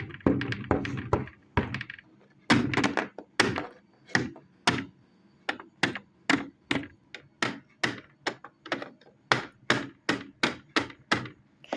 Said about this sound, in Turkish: Kapıyı çalma artık